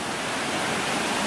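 Steady broadband roar of water plunging over a 57-foot waterfall onto rocks in West Virginia, heard from right above the falls, continuous and loud with no talking.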